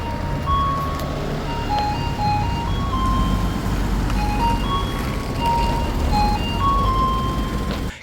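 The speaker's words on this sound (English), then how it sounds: "So the trash trucks play music." A Japanese garbage truck in Okinawa plays a looping jingle like an ice cream truck, a simple melody of clear tones repeating over the low rumble of its engine at close range.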